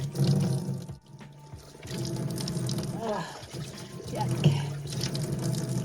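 A tap runs steadily as hands are washed at an off-grid home, a moderate splashing flow that holds through the clip while a person briefly speaks.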